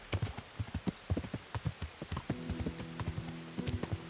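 Horse hooves clop in a rapid, even trot in Kingdom Come, close and distinct, with a short tonal game sound joining toward the end.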